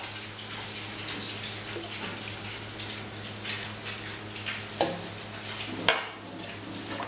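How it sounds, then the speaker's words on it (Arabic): Marinade ingredients stirred together with Sprite for fried chicken, giving steady clinks and scrapes of a utensil against a bowl with a wet sloshing undertone, a few sharper knocks near the end, and no talking. "نخلط كل المكونات دي كويس كده"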